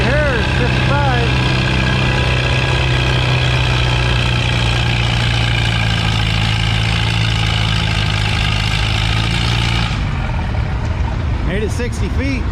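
A pulling tractor roars loud and close at a tractor pull on a slippery sponge track, its engine holding a heavy, steady drone before the pitch and tone shift near the end.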